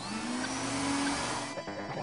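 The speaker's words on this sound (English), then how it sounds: "Remote control vacuum system on." A cartoon remote-control vacuum system switches on with a loud, steady whirring motor drone that holds for about two seconds before shifting in tone at the end.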